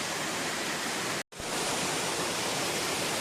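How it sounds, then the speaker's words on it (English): A waterfall in a mountain canyon ravine roars as a steady, dense, close rush of falling water, broken only by a brief instant of silence partway through. "And here is the waterfall, folks."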